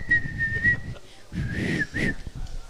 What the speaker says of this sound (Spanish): silbame un poquito de la cucaracha